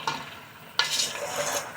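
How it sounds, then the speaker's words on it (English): Groundnuts are stirred and fried in garri in a pan, a dry rattling scrape of spoon against metal with two sharper strokes among soft shuffling grains. "when you're frying groundnut"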